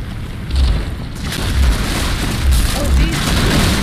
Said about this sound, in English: Yeah, the roof is collapsing.